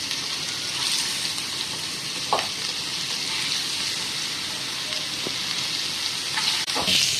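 Chicken sizzles steadily in hot oil on a tawa, a continuous close frying hiss with a few brief clicks and stirring scrapes, and no voices.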